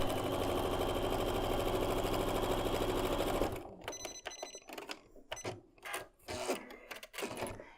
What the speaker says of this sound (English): I am kind of sewing these awfully fast